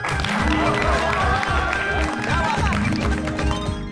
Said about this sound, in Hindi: हमारे रोशन सिंह सोडी जी के लिए जोरदार तालियां ठोको भाई।